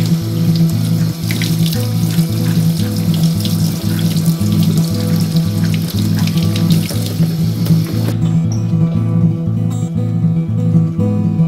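Wood ear fungus rinsed under a running tap in a sink, a loud steady gush of water with rhythmic splashing and sloshing as the fungus is handled, then an abrupt stop.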